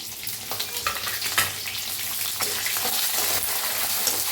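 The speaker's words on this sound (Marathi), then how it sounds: "भाजून घेऊया कसा कांदा भाजला बघा" Sliced onion frying with dried red chillies and curry leaves for sambar gives a steady close sizzle, broken by occasional stirring scrapes and growing slightly louder toward the end.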